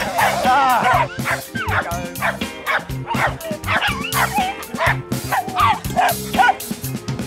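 Several dogs bark and yip in quick, overlapping bursts, close and loud, with a few whimpering notes mixed in, keeping up an almost continuous excited racket.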